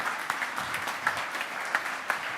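An audience applauds steadily, a dense patter of many hands clapping at an even level for a couple of seconds, with no talking over it.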